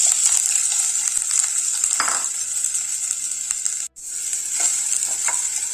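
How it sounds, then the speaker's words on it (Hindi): Soya chunks fry in a kadhai over medium heat, producing a constant bright hiss and crackle with a few light stirring scrapes and one brief gap near the end, close up and without speech. "सोया चंक्स को भी हम 2 से 3 मिनट तक मीडियम आंच में फ्राई कर लेते हैं।"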